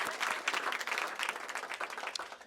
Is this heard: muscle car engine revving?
no